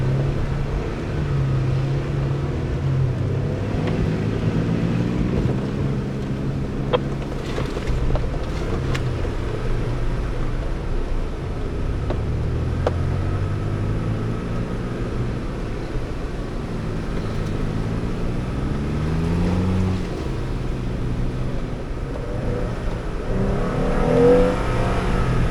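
A Ford Bronco's engine revs and strains while driving through snow, a loud continuous rumbling drone that rises and falls in pitch across the run, close and steady, with no talking.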